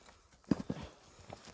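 A tall horse, nearly three years old, steps on the ground with a few quiet clip-clopping hoof strikes, two close knocks followed by fainter ones.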